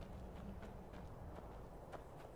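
Horse hooves in the video game Skyrim clip-clop in a loose, even walking rhythm, faint and fairly close, with no speech over them.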